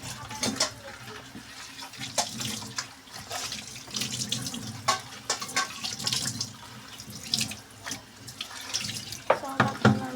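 Water runs steadily from a tap for rinsing, close and fairly loud with splashes and small clinks of dishes against a sink, no voice over it.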